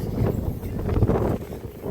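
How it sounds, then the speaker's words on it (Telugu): Strong wind in a maize field during light drizzle buffets the microphone in a continuous low, rumbling roar that swells and eases slightly throughout. "గాలి కూడా అసలు బాగా వేస్తుంది"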